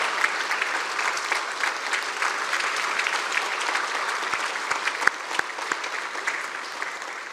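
Steady, dense applause from a church congregation fills the space for over seven seconds, even and sustained with a few sharper claps standing out near the end.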